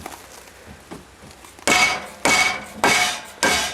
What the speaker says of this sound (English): I use a dead blow hammer I have here. It's a plastic face, but it does provide a good solid hit.